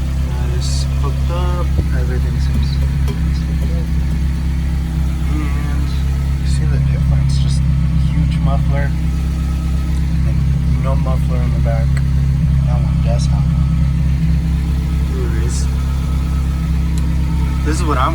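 A Toyota Celica idles with a cheap aftermarket eBay exhaust fitted, producing a steady, loud, low drone that holds for the whole stretch. Intermittent chirps and clicks sound nearby over the engine.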